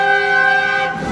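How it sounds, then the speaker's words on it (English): A car horn blares in one steady, loud, sustained honk close by at a haunted Christmas attraction. It cuts off near the end of the clip. "I hear a honking horn."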